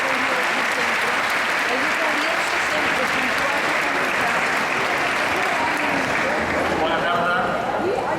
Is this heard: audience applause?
yes